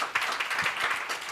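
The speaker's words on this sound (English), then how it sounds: "A round of applause for our panel." Applause from a panel-discussion audience, a steady, dense wash of many hands clapping at moderate distance, continuous and fairly even throughout with no speech over it.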